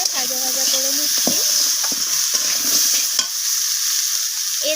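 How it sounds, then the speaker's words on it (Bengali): A spinach dish seasoned with salt sizzles in a pan while a utensil scrapes and stirs it in irregular strokes, close and clear, with a voice briefly audible at the start. "লবণটাকে দিয়েও আমি আবারও নাড়াচাড়া করে ভাজা ভাজা করে নিচ্ছি"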